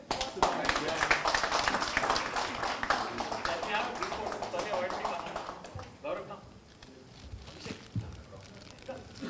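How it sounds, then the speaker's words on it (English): An audience at an HR conclave gives a round of applause, crisp clapping from many hands that tapers off after about six seconds, followed by quieter room sound and a voice. "A round of applause."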